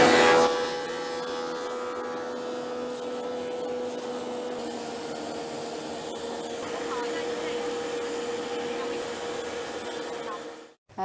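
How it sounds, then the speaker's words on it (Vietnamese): A machine grinds leaves finely for Vietnamese bánh gai cakes, giving a steady, loud motorized whine and hum that runs unbroken for about ten seconds, then cuts off abruptly at the end. "Đây là chiếc máy để xay nhỏ lá, ta sẽ làm cho lá nhỏ"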